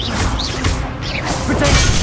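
A disarming spell cast in Hogwarts Legacy bursts out as a loud crashing whoosh with sweeping, swirling tones, dense and close for about two seconds.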